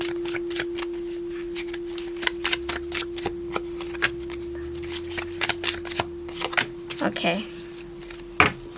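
Oracle cards are shuffled by hand in a series of quick, crisp riffling bursts and flicks, close and fairly soft, while a voice speaks briefly and a faint steady hum runs underneath.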